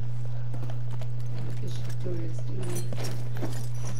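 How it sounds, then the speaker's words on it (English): A war horse's hooves clip-clop steadily in the game Battlefield 1, under a constant low hum and game background noise, with occasional voice-like sounds mixed in. "Look at my horse. My horse is amazing."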